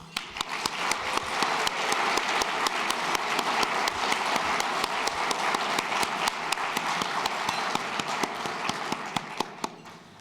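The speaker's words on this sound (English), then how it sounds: "Please join me in a round of applause for our amazing speakers today." A dinner audience at an annual conference gives a long round of applause for the speakers, sustained dense clapping with sharp individual claps standing out, steady throughout before easing slightly at the very end.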